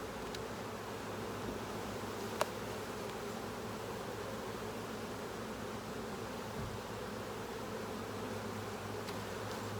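Honeybees drone in a dense, steady hum around an open beehive, a soft continuous buzz with a few faint clicks over it.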